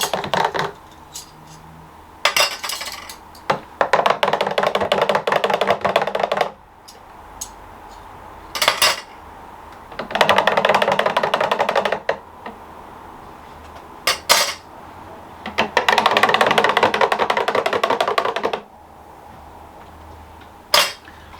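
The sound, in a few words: stirring fruit sorbet mixture in Ninja Creami pints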